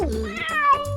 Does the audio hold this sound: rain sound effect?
no